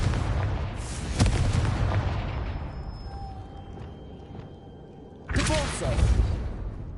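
In the Hogwarts Legacy video game, two Confringo spell blasts go off as loud booming bursts with a swooshing tail, one early and a second after a few seconds, over continuous game ambience.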